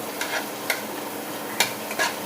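Chopped onion is stirred and sautéed in a pan, with a soft continuous sizzle broken by a few sharp scraping strokes of the spoon against the pan, fairly quiet and close.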